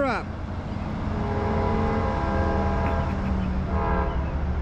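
A New Jersey Transit train sounds its horn in two chords, a long sustained blast and then a shorter one, loud over a steady background rumble of passing traffic.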